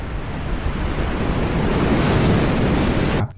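Loud, continuous roar of crashing tsunami surf, dense and rushing like heavy waves, cutting off abruptly at the end.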